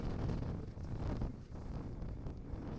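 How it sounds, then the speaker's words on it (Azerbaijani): Steady mountain wind buffeting the microphone near Laza village, Qusar, Azerbaijan, as rain begins, a low rumbling roar that swells and dips slightly but never stops across the short stretch. "Külək, yağış başlayıb."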